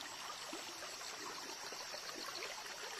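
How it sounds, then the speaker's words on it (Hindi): Mineral-rich spring water trickles out of rocks in a forest, a faint, steady and continuous babble with no voices. "पानी निकलकर यहां से आ रहा है"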